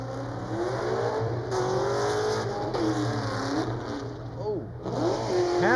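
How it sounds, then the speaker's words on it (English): A drift car rips a handbrake initiation along the wall at Orange Show Speedway during HOTPIT Autofest qualifying, its engine revving in rising and falling sweeps close by while voices talk over it. "handbrake initiation right on the wall"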